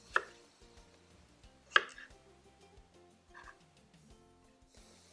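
A knife cuts bad spots off potatoes on a board, with two sharp chops and a few lighter taps spread over a few quiet seconds, close by.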